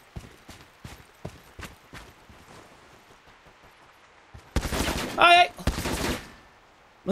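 Gunfire in the online shooter Lost Light: a string of sharp, separate shots cracks out over the first few seconds, then a louder burst of close talking takes over, with more faint shots in the gaps.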